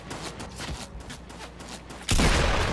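Gunfire in Fortnite: scattered distant shots through the first two seconds, then a sudden loud burst of close firing that holds to the end, with no talking.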